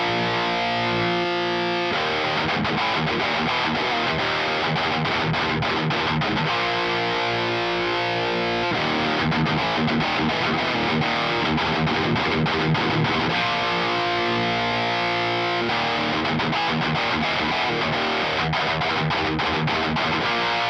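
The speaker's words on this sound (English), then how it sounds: "this is the MXR with the Marshall on the orange OD channel and without the mid shift" Heavily distorted electric guitar through an MXR pedal into a Marshall JVM410HJS amp on the orange OD channel without mid shift, playing loud, continuous thrash riffs with chugging palm-muted stretches and rhythmic breaks, no talking.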